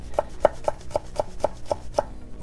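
A knife chops ingredients for chicken hearts with beans in seven evenly spaced, crisp strokes on a board, close and clear with nothing else heard.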